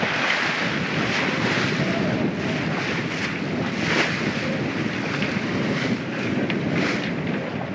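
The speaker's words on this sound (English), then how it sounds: "we got a good wind. 17 to 18 knots" Strong 17 to 18 knot wind sweeps over a sailboat reaching with a reefed mainsail, a constant roaring gust noise layered with wave wash and water rushing along the hull, close and loud throughout.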